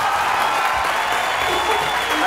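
A studio audience applauds Fernando Burlando, steady dense clapping with crowd noise filling the whole short stretch at an even, loud level.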